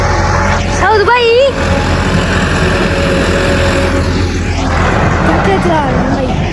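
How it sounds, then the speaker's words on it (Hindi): Tractor driving along outdoors, a steady engine rumble running continuously under loud overlapping talk and shouting. "ट्रैक्टर चला रहे हैं भाई"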